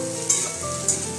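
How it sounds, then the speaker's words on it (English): Food frying in oil in a pan gives a steady dense sizzle, loud and close, with a couple of brief sharper spits or stirs and no talking. "this is going to get fried"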